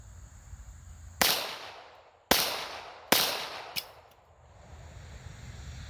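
A pistol firing competition ammunition lets off three loud, sharp shots at uneven intervals, each with a ringing decay, and then a fainter fourth report, heard close up with no talking.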